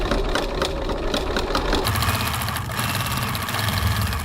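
A sewing machine runs continuously while stitching the edge of a Wanderflap crossbody bag, producing a loud, steady mechanical whir close by with no pauses and no talking.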